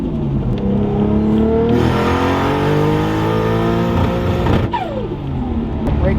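Nissan R32 GT-R on drag slicks revving hard through the gears, loud rising engine pitch that climbs high and breaks up near the top before shifting and climbing again, heard up close without talk.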